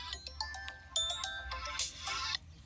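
A mobile phone rings for an incoming call with a bright electronic ringtone of short repeating melodic notes, close and steady, with no voices.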